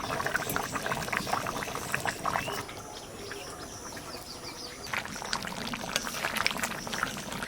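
A pot of desi goat mutton curry bubbles over a hand-tended fire, with a steady close burble and crackling bursts, quieter in the middle, and no talk.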